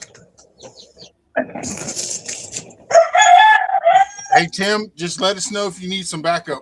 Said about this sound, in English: that noise you just heard is called a rooster